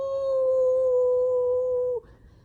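A person imitates a werewolf howl with one long, steady, sustained tone that holds for about two seconds and then cuts off abruptly, leaving a quiet room.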